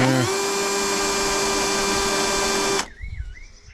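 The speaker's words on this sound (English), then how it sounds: "So drill our pilot hole." A power drill bores a pilot hole through taped fibreglass bumper on a 1992 Nissan 300ZX twin turbo, giving a steady high whine for nearly three seconds before it stops abruptly, leaving faint background noise.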